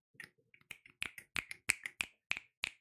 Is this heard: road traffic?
no